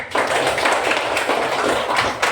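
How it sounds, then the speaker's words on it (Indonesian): A burst of hand clapping from a group of schoolchildren in a classroom, a steady crackling patter of many claps lasting a couple of seconds. "Tepuk tangan kepada"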